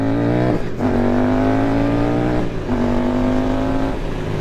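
Suzuki GSX-8S motorcycle, an A2-licence model, accelerating hard on a road with rising engine whine through two gear shifts, loud and close from onboard, no talking.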